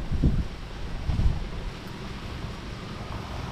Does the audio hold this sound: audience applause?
no